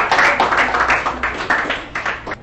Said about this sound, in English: Let's now give a round of applause to our debaters.